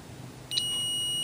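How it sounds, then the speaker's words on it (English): A multimeter gives a continuity beep while testing the power transformer of a Philco model 37-2670 radio. The tone is a thin, high, steady pitch that starts suddenly and holds, faint and close, with no talking. "See if we can get a sound out of our multimeter."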